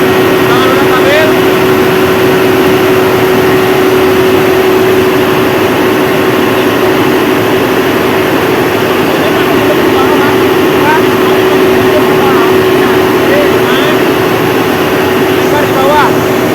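A Mitsubishi 1250 kVA diesel generator engine runs steadily throughout, a loud, constant low drone with a sustained hum and no pauses; voices talk faintly under the noise.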